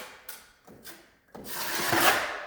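A drywall knife spreads and feathers joint compound across drywall in short scraping strokes, a couple of quiet swipes followed by a longer, louder rasping pass.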